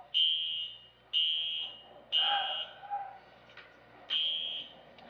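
Electronic alarm beeping in a jail courtroom: four loud, piercing beeps about one second apart, each fading quickly, with a short break in the pattern, heard close with low background noise and no clear speech.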